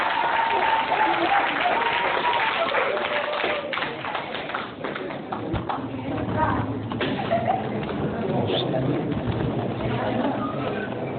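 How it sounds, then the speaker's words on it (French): An audience at a political party's general assembly ceremony claps in a continuous, moderately loud wash of applause with scattered louder claps, while voices murmur faintly underneath. "Applaudissez."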